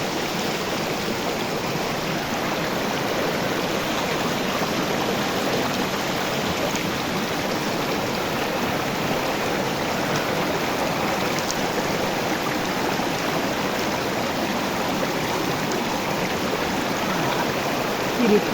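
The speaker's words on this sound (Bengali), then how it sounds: "আমরা ঝর্ণার জলে এখন একটু মুখ চোখ ধুয়ে নেব।" Cold jungle waterfall stream in the Western Ghats of Karnataka rushes in a steady, close, full-bodied wash for the whole stretch, with faint splashing as someone rinses their face in the water.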